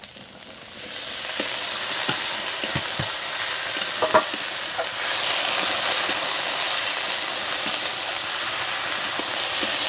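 Potatoes frying in a pan for a spicy potato-cauliflower samosa filling, a steady sizzle with scattered scraping and stirring clicks from a utensil, fairly close and without talk.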